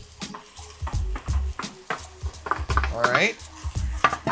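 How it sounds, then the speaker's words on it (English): Pork goes into a pan for Japanese curry and is stirred, with repeated scraping clinks of utensil on pan over a soft sizzle, close and fairly loud; someone speaks briefly. "We're gonna add our pork again."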